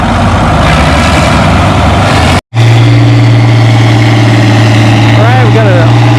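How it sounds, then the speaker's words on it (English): A tractor engine roars loudly at a tractor pulling competition, cutting out for a moment then returning as a steady heavy drone, with a voice talking over it and a brief whistle-like rise near the end. "So Braden on Jason's tractor gets down to 205 feet"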